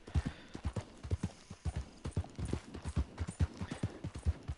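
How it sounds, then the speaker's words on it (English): Hooves of a Norfolk Roadster horse clip-clop steadily in Red Dead Online, a quick, even rhythm of close, distinct hoofbeats with no talk over them. "what horse do I have right now? It's a Norfolk Roadster."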